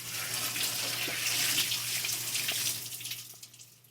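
Water pours steadily into a 1000 gallon aquarium, a broad hissing rush over a low hum that tapers off toward the end.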